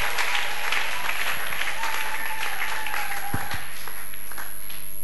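A church congregation applauding together, a steady wash of clapping that fills the room at moderate volume and fades slightly toward the end.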